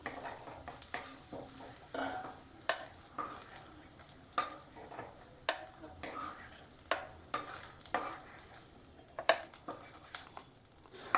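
Onions sizzle in hot oil in a pan while being stirred for a spicy raw tomato chutney, with a steady frying hiss broken by frequent sharp scrapes and clicks of a spoon against the pan.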